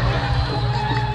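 An audience applauds and cheers at a Balinese drama gong performance, a dense, continuous wash of clapping and crowd noise for about a second.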